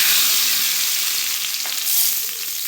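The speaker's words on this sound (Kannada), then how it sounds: "ನೋಡಿ, ಒಗ್ಗರಣೆ" A tempering of cumin seeds, curry leaves and garlic sizzles loudly and continuously in hot oil, with a close, dense crackle and no one speaking.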